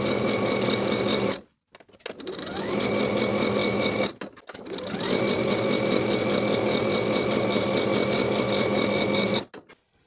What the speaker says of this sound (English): I'll sew both side seams and both shoulder seams with a 3/8 inch seam allowance.